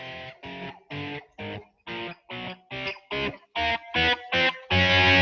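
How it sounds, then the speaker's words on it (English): An electric guitar with distortion plays a run of about a dozen separate picked notes, each one loud and buzzing, ending in a sustained ringing note. "I got a little distortion on the guitar today, so it sounds kind of cool"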